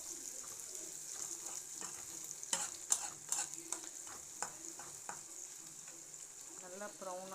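Onions sautéing in a pan for an egg and capsicum gravy, with a steady sizzle, stirring scrapes and occasional utensil clinks near the middle.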